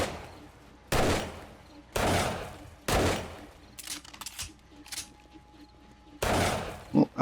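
A .44 revolver fires in the zombie survival game 7 Days to Die, four sharp, loud shots spaced about a second apart, then scattered thuds and clatter before a fifth blast and a final short burst.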